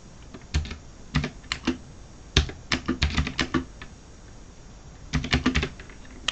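Code typed on a computer keyboard in quick bursts of crisp, close key clicks, with a pause in the middle before another burst.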